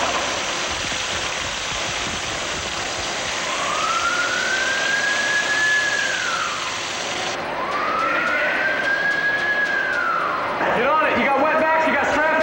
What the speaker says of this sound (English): sound the collision alarm off